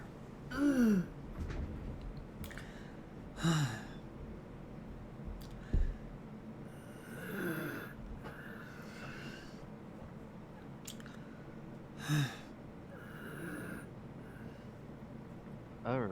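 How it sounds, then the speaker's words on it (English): Scattered bursts of coughing and throat clearing from one person, close and fairly loud, spaced several seconds apart with quiet breathing in between. "Sorry about all the coughing."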